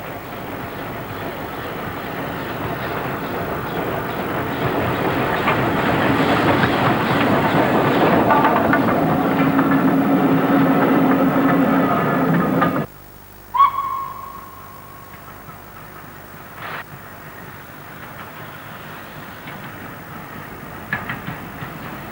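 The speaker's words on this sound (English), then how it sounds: "69023 is seen in charge of 2 coaches" Steam locomotive 69023 working two coaches, one of North Eastern Railway vintage, on the North Yorkshire Moors Railway, a steady rumbling run that cuts off abruptly, followed by a short whistle and a few faint clanks.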